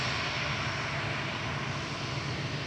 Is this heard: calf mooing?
no